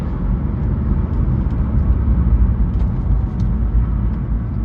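Engine of a BMW E46 M3, head gasket replaced, downshifting to third with the windows up, heard from inside the car as a muffled, steady low rumble with some faint clicks above it.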